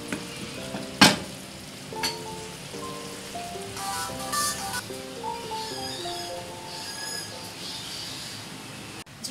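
Mutton karahi simmers on a low flame, a soft, steady sizzle and bubbling from the pan under gentle background music, with an occasional sharp clink.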